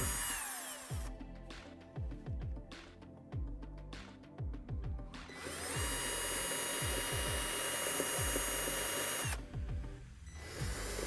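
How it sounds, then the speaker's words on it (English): A power drill pre-drills pilot holes into a spa cabinet, whirring in short bursts, then one longer steady run, its motor pitch rising and falling up close with clicks between passes. "Now we are ready to pre-drill our holes."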